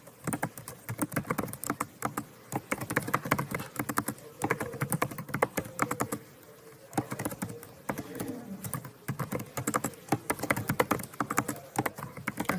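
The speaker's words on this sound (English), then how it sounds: "I'm so glad you're a fast typer." Rapid typing on a computer keyboard, a dense, steady stream of close clicks and key taps running throughout with no pauses.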